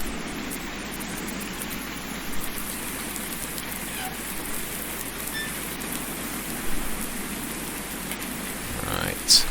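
Rain falls steadily on a Farming Simulator 19 farm, a continuous close hiss of drops on surfaces with a few soft bumps and a short sharper sound at the very end, no talking.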